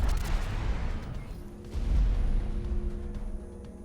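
A heavy explosion in the space game X4, a deep rumbling boom that swells, fades, then rolls again in a second wave of low thunder before tapering off, no voices.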